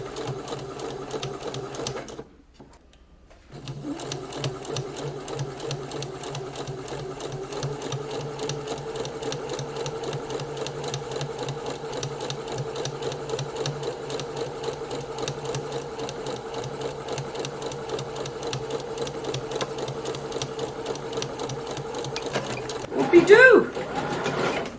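A sewing machine runs in one long steady stitching pass along a blouse seam edge, a brief pause near the start, the motor humming evenly close by with a short clatter at the finish.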